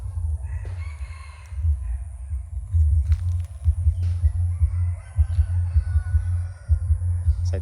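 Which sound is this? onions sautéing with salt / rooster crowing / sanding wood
rooster crowing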